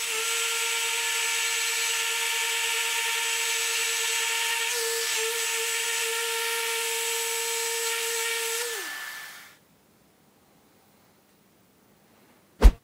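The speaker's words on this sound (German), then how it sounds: "nehmen wir uns jetzt mal ein Schleifgerät und schleifen den Übergang hier einmal so" A power sander sands a wood joint flush, droning steadily and close for about nine seconds, then winds down to silence, followed by a single sharp knock.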